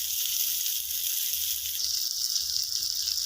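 Fish frying in a little oil until crisp, a steady soft hiss of sizzling oil with slight crackle, moderately faint and uninterrupted.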